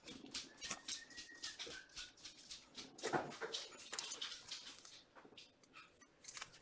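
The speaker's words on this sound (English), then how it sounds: "Hey, Beth, can you let the dog out" A female dog whimpers and whines indoors, restless and wanting to go outside, in a string of short high cries spread over several seconds, fairly faint and close, with light patter and no clear talk.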